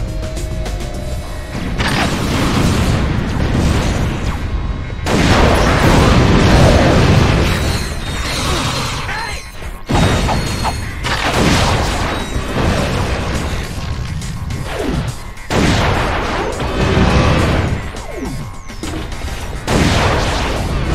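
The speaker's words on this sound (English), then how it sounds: "Explosions are pretty." Repeated booming explosions and bursts of gunfire fill the action video game Ratchet: Deadlocked, loud and dense, with sharp blasts recurring every few seconds over continuous game noise.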